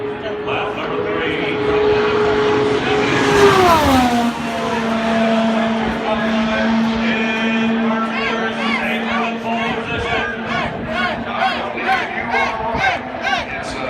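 An Indy car screams past on the Indianapolis track during 2018 pole-day qualifying, its engine note rising then dropping sharply as it passes, followed by a fading roar and crowd noise.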